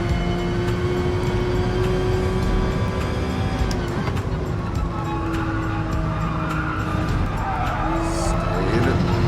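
A Porsche RSR race car in GT Sport at Brands Hatch revs hard through steady high-RPM engine drone with shifting harmonics, continuous and loud, with brief tire squeal and skidding near the end.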